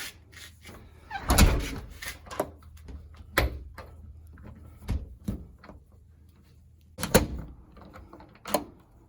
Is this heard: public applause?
no